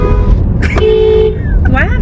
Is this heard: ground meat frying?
no